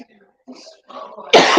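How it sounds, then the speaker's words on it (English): Faint breathy vocal sounds lead into one loud, close cough at the end. "had to cough a little bit"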